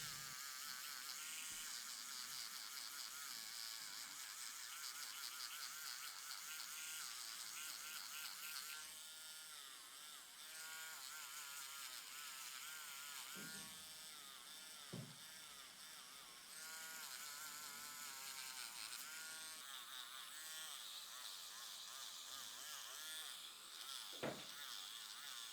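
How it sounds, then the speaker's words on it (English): A continuous high, whirring buzz from an electric nail file filing thick, dry skin on worn feet, steady and close for the whole stretch, with slight pitch shifts as pressure changes and a few brief knocks. "before I went in with my electric file"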